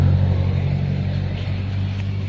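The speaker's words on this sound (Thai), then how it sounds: "รถมา" A car engine rumbles steadily with a deep, even drone, fairly close and holding at a constant level throughout, with no voices over it.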